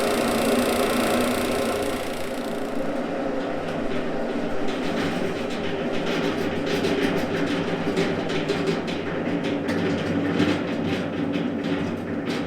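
A 1/3 horsepower General Electric electric motor drives an extractor with a steady, loud, continuous mechanical whir and a fast, even clatter or rattle running throughout, and nobody speaks.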